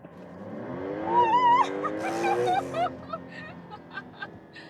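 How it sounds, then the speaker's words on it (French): A 2026 Porsche 911 Turbo S in Sport Plus mode, with a flat engine, electric motor and twin turbochargers, gives a brief loud rev that swells and falls, then settles back to a quieter idle. "Là, on a un moteur plat maintenant avec le moteur électrique et les 2 turbocompresseurs"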